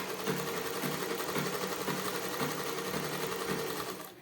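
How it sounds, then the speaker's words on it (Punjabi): Sewing machine stitching a collar in place on a garment, running continuously in a steady rhythmic chatter of needle strokes for the whole stretch, close and moderately loud with no talking. "ਫਿਰ ਆਪਾਂ ਸੈਂਟਰ ਦੇ ਵਿੱਚ ਇੱਕ ਰਫਲੀ ਸਿਉਣ ਲਾ ਲਾਂਗੇ"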